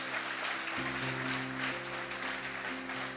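A church congregation applauds in a steady, even wash of clapping that lasts about three seconds, with held musical tones sounding underneath and no speech.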